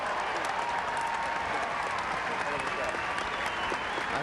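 A large golf gallery at the 2003 U.S. Women's Open at Pumpkin Ridge applauds steadily and loudly, a dense wash of clapping that holds for several seconds without a break.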